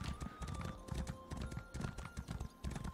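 A horse's hooves clip-clop in The Elder Scrolls Online, a quick, steady run of close hoofbeats lasting a few seconds.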